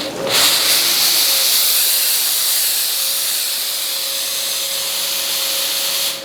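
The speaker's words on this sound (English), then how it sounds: "once the green light is on, you're ready for the full power steam" A Laurastar S Pure steam iron lets out full power steam as a loud, steady hiss that starts abruptly and holds evenly for several seconds, alone with a faint tonal whine underneath.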